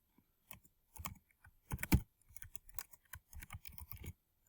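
Keys on a computer keyboard clatter in short irregular bursts of taps, close and fairly quiet, with no talking over them.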